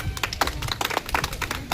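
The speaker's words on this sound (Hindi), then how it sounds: "ताली बजाओ" A class of children claps hands in a workshop, a loose run of quick uneven claps close by that continues briefly without talk.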